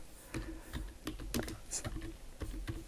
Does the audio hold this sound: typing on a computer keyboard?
yes